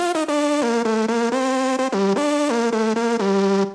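Synth lead with its full effects chain switched on, heavily crushed by tape saturation, playing a continuous stepped melody of dense, gritty sustained notes, loud and upfront with no talking.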